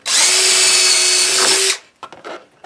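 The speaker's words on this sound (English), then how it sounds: "you want to drill yourself a hole in some plastic" A power drill with a step drill bit whines loudly and steadily for under two seconds through 1/16-inch plastic, then cuts off, followed by a few light clicks and handling sounds.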